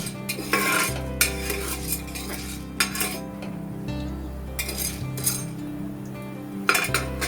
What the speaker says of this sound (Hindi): इसको हम बहुत अच्छी तरह से चलाएंगे ताकि ऑयल और मकई का दाना एक साथ मिल जाए।